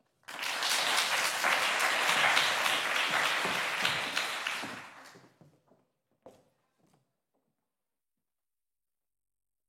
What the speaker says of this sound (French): je vous demanderai de faire un tonnerre d'applaudissements pour les 2 présidents